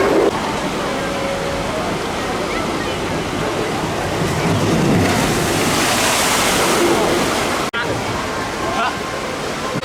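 Water rushes and splashes continuously on the log flume ride at Gulliver's Land theme park. A loud, steady roar runs throughout with a brief dropout near the end, and voices are faintly mixed in.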